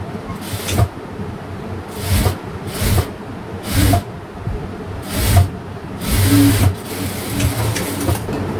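A sewing machine stitching a school uniform shirt runs in repeated short bursts of rapid mechanical whirring, close and fairly loud, with brief pauses between runs and no talking.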